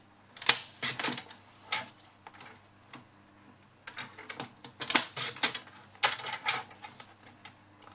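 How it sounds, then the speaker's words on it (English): Paper trimmer slicing cardstock down to size for a handmade card, heard as a series of close, quiet clicks and short scraping strokes with small pauses between them, no talking. "where's my trimmer? Just cut this down to size."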